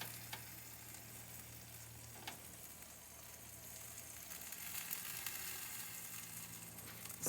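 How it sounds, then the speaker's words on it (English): A grilled cheese sandwich sizzles in a pan, a soft, steady frying crackle heard alone and fairly faint, with a few light clicks and a brief clatter at the end. "Can you hear that sizzle?"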